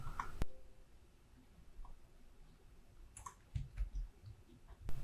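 Computer mouse clicks while drawing shapes in a word processor: a few sharp, quiet clicks scattered across the stretch, including a close pair near the start and more near the end, over faint room noise.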